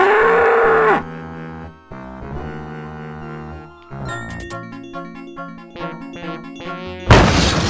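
A cow moos in the point-and-click game Day of the Tentacle, a long low call at the start set against cartoonish game music that carries on with jingles and ends in a loud burst.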